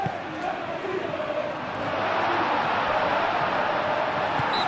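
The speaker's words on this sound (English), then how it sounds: "We have a hugely expectant crowd here" Stadium crowd in a football video game, a broad, continuous roar of many voices that swells slightly louder midway, a steady distant wash with no clear individual sounds.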